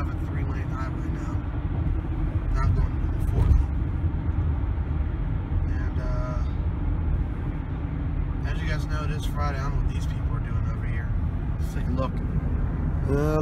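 Dense highway traffic on a three-lane road near Akron, heard from inside a moving car as a steady broadband road rumble throughout, with a person talking over it.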